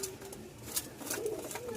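Pigeons for sale coo in low, rolling calls close by, with a few sharp clicks and rustles mixed into steady background noise.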